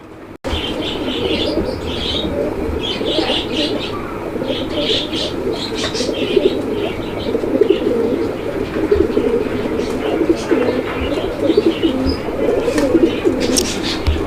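Pigeons coo at a pigeon seller's loft, with soft repeated calls and chirps from several birds under a constant, busy background hum that runs the whole time.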